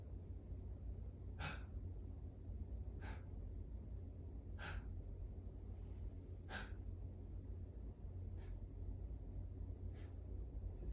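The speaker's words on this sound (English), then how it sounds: "It's good to make a bit of an audible noise of like a gasp." Sharp startle breaths during a bioenergetic breathing exercise, heard as about seven brief audible gasps spaced a second or two apart over a steady low background hum.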